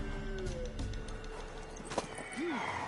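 Horse sounds from The Witcher 3: a short neigh rises and falls near the end over ongoing in-game ambience, with faint hoof clatter and a brief sharp knock in the middle.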